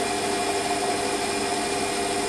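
A metal lathe turning a part at about 750 RPM while cutting, giving a steady, even whirring drone with a faint scraping edge from the tool, continuous and close throughout.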